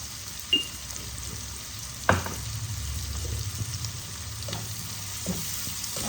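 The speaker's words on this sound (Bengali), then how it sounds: "ভালো করে লাল লাল করে ভেজে নেব।" Rohu fish frying in hot oil with salt and turmeric, a steady close sizzle running throughout with a couple of sharp clinks from a utensil against the pan.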